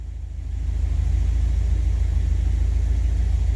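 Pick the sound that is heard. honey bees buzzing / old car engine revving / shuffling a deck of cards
old car engine revving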